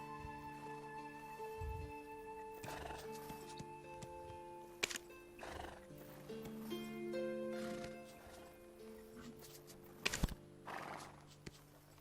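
Horses whinny and hooves clop in the video game Black Desert Online, over a steady musical drone, with a few sharp clicks scattered throughout.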